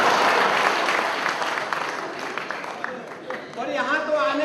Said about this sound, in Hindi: ताली वाली तो एकदम ठोकते रहिएगा।